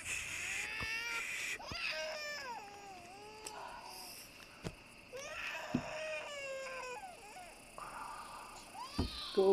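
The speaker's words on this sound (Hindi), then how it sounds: "आई थिंक बच्चे की तो रोने की आवाज आ रही है।" A baby crying in a film scene, with wavering, whimpering cries repeated throughout over a steady background hum, fairly close and moderately loud.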